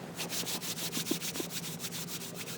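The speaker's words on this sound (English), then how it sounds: "You can rub your hands" Palms of two hands rubbed together in quick back-and-forth strokes, a soft rhythmic swishing friction repeated about a dozen times, close and quiet.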